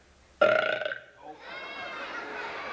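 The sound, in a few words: burp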